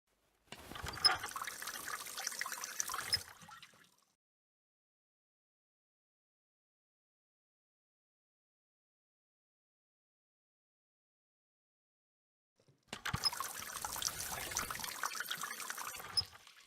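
Water gushes from a tap in the video game The Raven: Legacy of a Master Thief for about three seconds, stops into silence, then flows again steadily for several seconds; close and clear, no talking.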